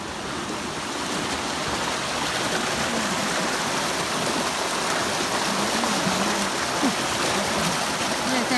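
A stream in Sweden flows in a steady, even rush of water heard close and continuous, with faint voices or calls occasionally rising under the wash.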